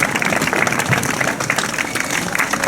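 Applause from a crowd at an outdoor rally in Avranches against the asylum and immigration law, dense and steady clapping for nearly three seconds with a faint murmur of voices underneath.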